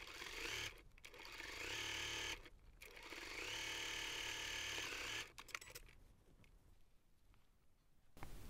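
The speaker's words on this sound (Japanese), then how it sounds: "底を5ミリ幅ぐらいで縫っていきます。" A sewing machine stitches the bottom seam of a Daiso pouch in steady, close whirring runs, stopping briefly between passes, with quieter handling noise after the last run.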